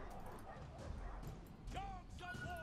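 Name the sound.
war dogs barking in Total War Arena video game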